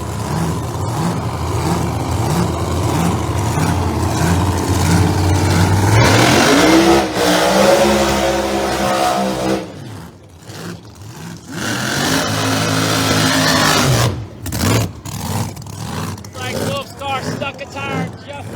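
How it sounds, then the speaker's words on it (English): ProMod drag racing cars at a strip rev hard, then launch with a loud rising engine roar that fades down the track, followed by further sharp revving bursts nearby. "Alrighty, both cars are fired up. First pair coming down the racetrack."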